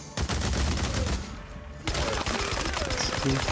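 Rapid video game gunfire, dense automatic bursts crackling loudly and continuously, with a brief dip in the middle before the shooting resumes at full intensity.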